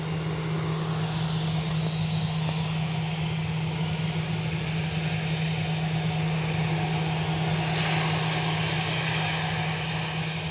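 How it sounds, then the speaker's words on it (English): An Airbus A320 departs Manchester Airport bound for Alicante on a stormy day, its engines a continuous broad roar with a steady low drone, sustained and fairly close throughout, no voices. "It's off to Alicante, Airbus A320."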